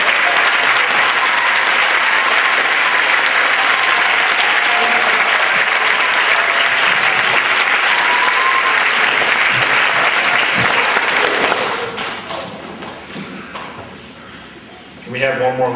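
An audience at a school welcome event gives sustained, loud applause for a Class D state champion team on stage, continuous dense clapping for about twelve seconds before tapering off.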